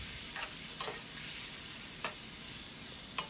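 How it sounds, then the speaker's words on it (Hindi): Mutton liver frying in oil over a medium flame gives a steady, fairly quiet sizzle, with a few sharp stirring clicks scattered through it and no voices. "ऑयल में फ्राई करेंगे कलेजी को"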